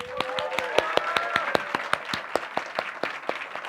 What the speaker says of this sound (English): would you please give them all a big round of applause